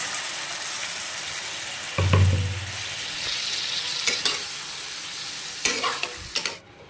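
A splash of water hits a potato curry (aloo dum) frying in a pan and sets off a burst of loud sizzling. Stirring clatters and scrapes follow over a steady hiss.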